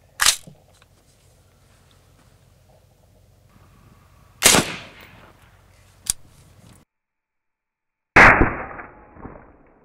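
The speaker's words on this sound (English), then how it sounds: "We're going to shoot a 223," Loud gunshots from .223/5.56 full metal jacket rounds fired at bulletproof glass, several sharp single reports spaced seconds apart, each with a ringing tail, mostly alone with little else between shots.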